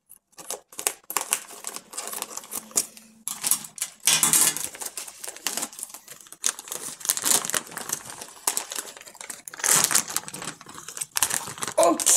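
Plastic toy packaging around a plush toy is crinkled, snipped with scissors and torn open up close, with irregular clicks, rustles and sharp cuts in bursts.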